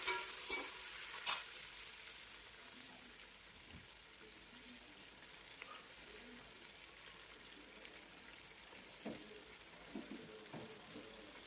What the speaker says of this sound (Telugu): మరి ఇప్పుడు బాగా కలుపుకోవాలి